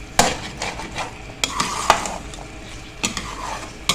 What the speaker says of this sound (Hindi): इसको हमने इतना भूनना है कि इसका ये जो ऑयल है ना ये साइडों पे निकलना शुरू हो जाए